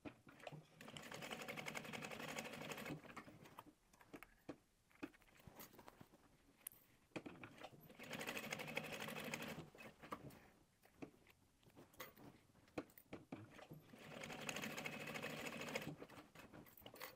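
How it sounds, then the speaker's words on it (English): A sewing machine stitches close to the edge of an apron's clipped sides in three steady runs of rapid, even whirring, separated by quiet pauses with small handling clicks. "let's go to the sewing machine and sew as close to the edge as possible"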